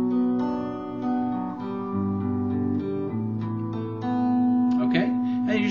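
Guitar playing the three-chord intro riff of a song, strummed chords changing steadily in a repeating pattern, moderately loud and close.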